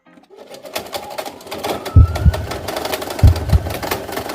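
A sewing machine jams while stitching a buttonhole, running with a steady mechanical whir broken by two pairs of heavy low thumps as the mechanism catches, close and fairly loud with no speech.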